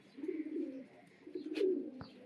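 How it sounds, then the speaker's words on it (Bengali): Large pet pigeons kept at home cooing in two low, throaty rumbling phrases, close by and fairly soft, with a brief rustle and a tap between them. "এগুলো আমার নিজের বাড়ির কবুতর"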